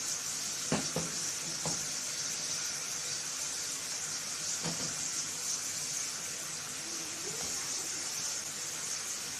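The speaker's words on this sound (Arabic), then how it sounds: "انا هسيب اللحمه بتاعتي تتشوح كويس" Beef slices for mushroom soy-sauce piccata sauté in a hot pan with a steady, close sizzle, broken by a few brief clinks and stirring knocks.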